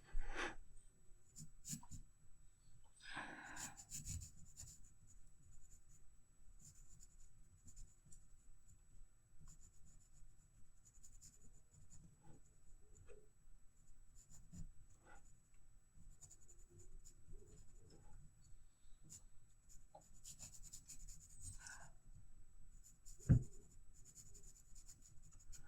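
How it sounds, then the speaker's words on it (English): Graphite pencils, including a soft 2B, shading darker tones over a toucan drawing on paper, giving a quiet continuous scratching with short strokes and occasional louder taps, close and alone. "I can gradually layer over some darker tones with some of the other pencils"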